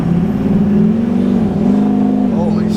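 A race-prepped DURTYMAX truck running a stock turbo accelerates hard. A loud, close engine note wavers and climbs in pitch as it pulls, with a brief shift-like dip near the end.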